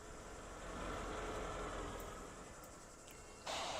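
A CSX freight train rolls past in the Run8 train simulator, a steady mid-distance rumble that swells and fades slightly, with a brief sharper noise near the end and no one talking.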